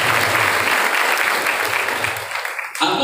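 Loud, dense applause from students at a motivational seminar at SMK Amaliah in Ciawi, Bogor, honouring Pak Hakim; the clapping fills the room steadily and then breaks off sharply into music near the end.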